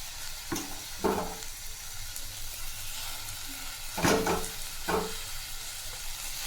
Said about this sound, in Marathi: डाळ पण छान फ्राय झाली आहे तेलात तर इथं पालक भाजी टाकायचं आहे बारीक चिरलेली पालक